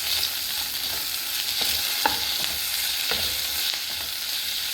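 Fish frying in coconut oil in a pan, giving a steady, close sizzle with a few light clicks of stirring. No one speaks.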